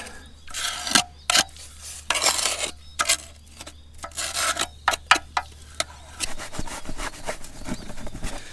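Scraping and rubbing inside the bottom of a Caterpillar RD-6 engine oil pan, with irregular bursts of rasping strokes and pauses over a low steady hum.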